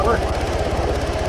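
A helicopter in the ArmA 3 military game churns with a steady low rotor throb and engine drone, loud and close, while a voice talks over it briefly.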